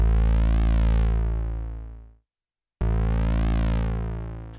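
Arturia MiniBrute 2 analog synthesizer on gate envelope mode: a long, bright sawtooth-like note with a sweeping filter sustains for about two seconds, cuts off, then a second held note starts after a short gap.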